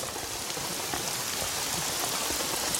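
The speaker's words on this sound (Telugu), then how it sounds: "వర్షం పడుతుందమ్మా." Steady rain falls in a dense, even hiss of drops hitting surfaces, unbroken for the whole stretch, moderately loud and with no voices over it.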